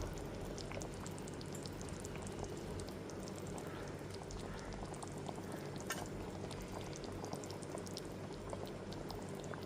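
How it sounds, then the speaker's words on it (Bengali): Fried fish pieces drop into a thin Bengali fish curry simmering in a pan, with a constant low bubbling and sizzle running steadily throughout, faint and close, with no voices. "তারপর ভেজে রাখা মাছের পিসগুলোকে দিয়ে দিচ্ছি"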